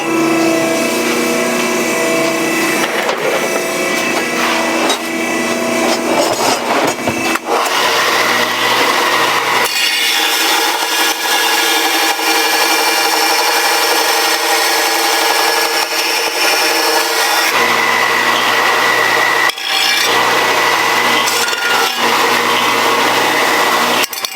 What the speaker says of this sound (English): I'll clean it up on the sander just so there's not any rough edges.